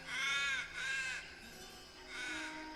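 A crow caws three times in a harsh, rasping rhythm, each call drawn out and fairly close, with brief pauses between them.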